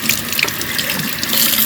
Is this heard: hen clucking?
no